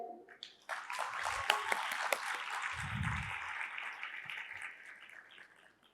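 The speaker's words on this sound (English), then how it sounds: "Can we please get a round of applause for them?" Applause from a conference plenary audience swells quickly, holds steady for a few seconds with sharp individual claps, then fades out.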